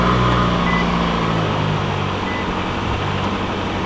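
Alert tones from a Nissan's rear door alert system, with the horn-and-alert setting, play loudly and steadily throughout, with sustained tonal beeps over low vehicle rumble and no talking.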